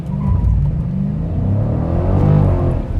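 A Dodge Challenger 1320 drag car launching off the transbrake, its engine roaring into a loud, rising rumble of acceleration with a brief spin of the tires, close and alone with no voices.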